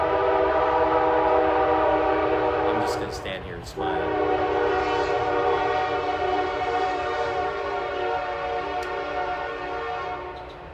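A passing train sounds its horn in a long, loud, sustained blast while the rumble of the rail cars rolls on steadily beneath; someone speaks briefly near the start.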